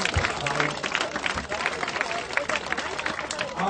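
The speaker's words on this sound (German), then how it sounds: "also Applaus nochmal" Spectators applaud a runner crossing the finish line at a 10 km race in Schwerin, steady clapping from a crowd with an announcer talking over it.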